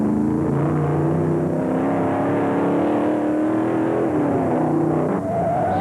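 A giant 427 Cobra and a Ferrari race at the 1965 Bridgehampton 500, with a loud, sustained engine roar whose pitch rises and shifts steadily and then dips near the end, heard alone without talk.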